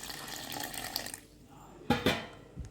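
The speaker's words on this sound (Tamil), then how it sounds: "இப்போ அரை கப் தண்ணி ஊற்றிக்கலாம்" Half a cup of water pours in a steady stream for about a second, then stops, followed by a couple of short splashy knocks against a cup, while making rice payasam.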